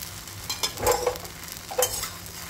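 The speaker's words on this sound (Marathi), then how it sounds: "चला पुन्हा एकदा आपण हलवून बघूया आपली खिचडी." Sabudana khichdi with potatoes stirred in a pan, soft spoon scrapes in a few irregular strokes over a low steady sizzle, close and quiet.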